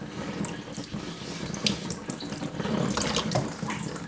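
A stream of tap water splashes over a sharpening stone to rinse off grit before work on a Shun cleaver, a close, continuous gushing with small splashy variations.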